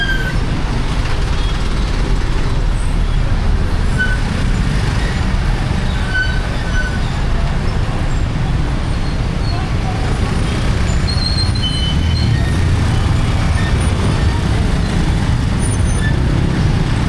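Dense street traffic in Nepal rumbles continuously, with trucks and buses passing close by and the odd brief horn or squeal above the steady engine roar.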